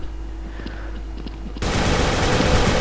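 Gunfire in the video game Dragon Svip: quiet game ambience with a few faint clicks, then a sudden dense burst of rapid automatic shots that fills the rest of the moment loudly and continuously.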